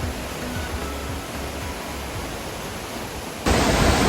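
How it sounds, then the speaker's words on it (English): The Leke Leke waterfall in Bali roars as a dense, constant rush of falling water, steady and broadband, growing noticeably louder near the end as if heard from closer, with no voices. "That is the waterfall over there."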